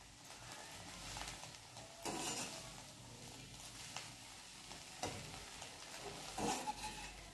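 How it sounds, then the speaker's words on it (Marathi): Curry leaves roasting in a pan over a low flame, a soft, quiet crackle and rustle broken by intermittent spatula stirs and scrapes, close but faint, with no talking. "याला बारीक गॅसवरच भाजायचं, छान भाजल्या जातो मस्त कडक"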